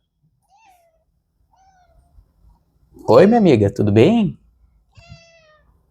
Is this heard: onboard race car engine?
no